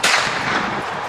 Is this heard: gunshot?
yes